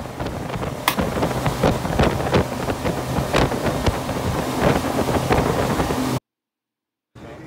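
A boat's Yamaha 425 hp XTO outboard motor roars at speed amid rushing wind and water slaps, loud and continuous, then cuts out briefly before resuming.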